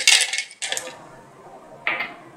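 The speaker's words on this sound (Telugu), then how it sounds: "ఆ తర్వాత దాంట్లో మనం తీసి పెట్టుకున్న ఐస్ క్యూబ్స్ వేసుకోవాలి" Ice cubes clatter into a hard mixer jar in three quick bursts, the first loud and busy, the later ones smaller, with quiet pauses between.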